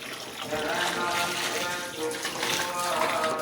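Water rushing through a pipe on a farm as it fills from a motor-driven pump, a steady broadband flow continuing throughout without a break.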